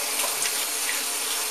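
Steady hiss of a hot-water tap running, a continuous close splashing stream with no voices.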